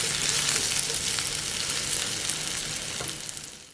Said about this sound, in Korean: 슬라이스한 마늘 넣고 오일 1큰술과 소금 약간 뿌려 튀기듯이 익혀주세요